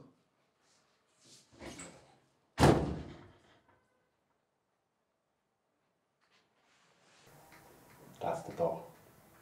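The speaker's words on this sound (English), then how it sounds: "That's the door." A door slams shut indoors during a heated domestic argument, one loud sharp bang standing out between stretches of raised voices.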